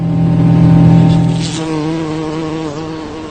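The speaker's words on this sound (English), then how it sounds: "the engines produce a distinct hum, just like the bees do" A steady, droning engine hum with a rough, buzzing tone, loud and close, wavering slightly in pitch as it holds for a few seconds.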